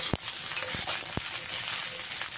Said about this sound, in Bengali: পাঁচ ফোড়ন আর শুকনো লঙ্কার সঙ্গে খুব ভালো করে চিচিঙ্গাগুলোকে মিশিয়ে নিতে হবে